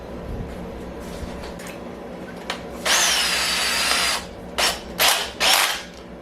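A hammer drill bores into a concrete wall of a house while a mini split is being installed, with one sustained loud whine followed by three short bursts, close and without talk.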